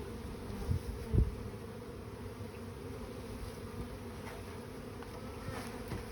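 A honeybee swarm drones steadily at a low level throughout, with a couple of brief louder thumps near the start and no voices.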